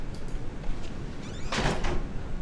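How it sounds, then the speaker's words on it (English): A door slams shut in the Outlast horror game, a single moderately loud thud and rattle heard against a steady, murky ambient background. "Just slam one door shut"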